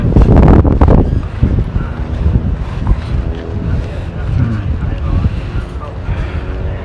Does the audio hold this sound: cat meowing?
no